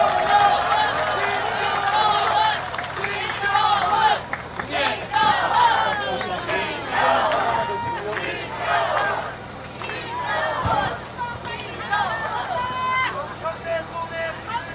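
A crowd at an outdoor election campaign rally for a district mayor by-election in Gangseo, Seoul, claps and cheers loudly, a dense roar of applause and shouting voices lasting about fifteen seconds, with some babble mixed in.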